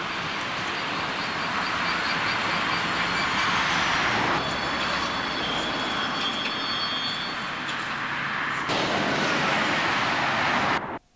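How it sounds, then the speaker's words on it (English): Coal freight trains heading north towards Belmont Down Yard, a steady loud rumble and clatter of wagons rolling past with some squealing, cutting off abruptly near the end. "3 trains of coaling stock prepare to head north towards Belmont Downyard"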